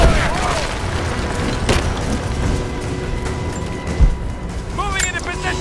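Gunfire in the action game Rise of the Tomb Raider: a dense, booming battle din with bursts of shots and a heavier thump partway through, mixed with shouting voices throughout.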